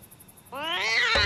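Cartoon cat giving a single drawn-out meow, loud and close, rising then quickly breaking off.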